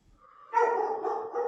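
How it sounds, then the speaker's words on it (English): A dog gives a short whine-like yip rising into a drawn-out, tonal bark-howl, fairly close and clear with no talking over it, during a quiet indoor movement session. "there's my dog"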